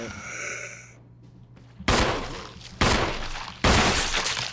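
Three loud gunshots ring out in Resident Evil HD Remaster, spaced roughly a second apart, each a sharp crack with a lingering echoing tail, following a quiet stretch of faint ambience.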